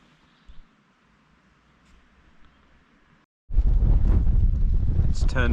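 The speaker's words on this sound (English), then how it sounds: "It's turned into a windy yet beautiful day at Lake Vyrnwy" Wind at Lake Vyrnwy in Wales hits the microphone hard after a quieter, faintly breezy stretch, turning into a loud, steady roaring buffet for the last couple of seconds.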